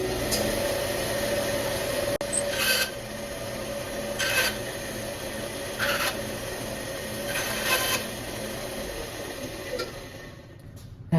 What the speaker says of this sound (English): going to use the bandsaw to cut the pieces to length